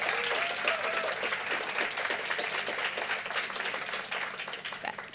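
An audience at a charity grant-giving event applauds, steady, moderately distant clapping from a sizable crowd that carries on evenly before tapering slightly.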